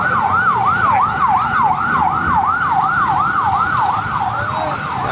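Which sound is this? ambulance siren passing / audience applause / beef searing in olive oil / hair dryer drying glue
ambulance siren passing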